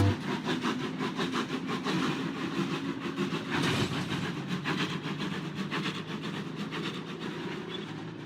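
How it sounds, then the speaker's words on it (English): A steam engine train runs along icy, snowy branch-line tracks with a steady, loud rumble and faint rhythmic wheel clatter that continues without pause. "Thomas chugging faster than ever"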